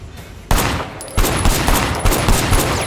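Rapid automatic gunfire from the video game Cyberpunk 2077, loud and dense, with bursts of shots that start about half a second in and hammer on repeatedly to the end, with no talking.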